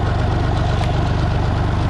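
An old Massey Ferguson 135 tractor engine idles at low throttle, a close, steady, pulsing diesel rumble with an even knock.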